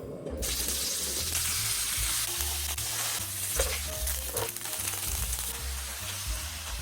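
Gochujang sauce bubbles and sizzles steadily over grilled dried pollack topped with green onion, a close, continuous crackling simmer with a low rumble underneath, with no voices.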